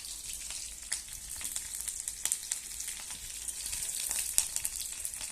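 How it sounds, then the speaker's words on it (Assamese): Dried red chillies, onion and green chillies fry in hot oil, giving a steady close crackling sizzle with scattered sharp pops throughout. "আমাৰ তেলটো গৰম হৈছে আৰু শুকান জলকীয়া আৰু পিঁয়াজ দুটা কেঁচা জলকীয়া দি দিছোঁ।"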